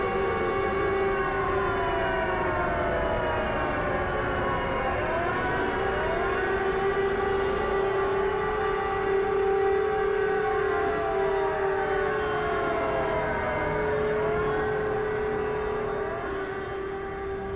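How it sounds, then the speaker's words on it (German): Civil defense sirens in Silent Hill wailing continuously, several overlapping rising and falling tones layered over a low rumbling background, loud and sustained throughout. "Die Sirenen waren noch nie ein gutes Zeichen in Silent Hill."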